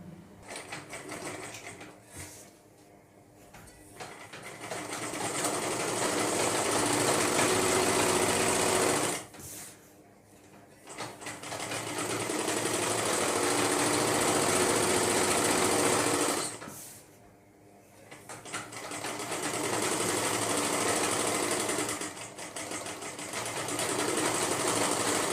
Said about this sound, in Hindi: इन दोनों को पकड़कर आपस में सिलाई लगा देंगे